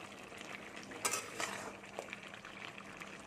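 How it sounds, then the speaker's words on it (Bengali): Homemade garam masala stirred into cauliflower and potato cooking in a pan: soft, faint scraping and stirring with a couple of brief utensil clinks, no voices. "দিয়ে পুরো আমি ঘেঁটে দিচ্ছি"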